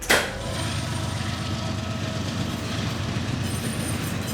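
A train rolls through a busy railroad junction, its steady, loud rumble running throughout with a faint clickety-clack of wheels on the rails and no voices.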